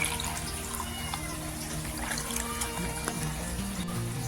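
Water poured into a fish tank while treating white spot disease, a steady splashing, trickling stream running continuously and fairly close, with no talking.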